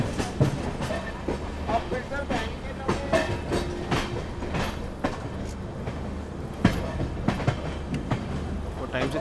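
Garib Rath Express LHB train rolls along the rails toward Saharsa, with a steady rumble and rhythmic clickety-clack over the joints, heard from inside the coaches. Muffled voices sometimes come through.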